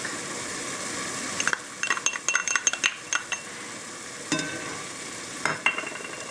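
Onion and garlic cook with ground turkey in a pan, a soft sizzle running underneath while a utensil stirs and clinks against the pan in quick bursts, close by and with no voices.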